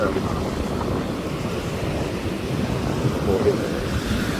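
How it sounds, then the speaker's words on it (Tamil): Rough sea crashing against the shore with strong wind, a steady broadband roar of surf and gusts that fills the whole clip without a break, loud and close, with no distinct pauses between waves. "அவ்வளோ கடல் அடிக்குது"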